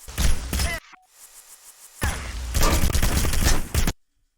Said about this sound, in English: They're gonna shoot us here.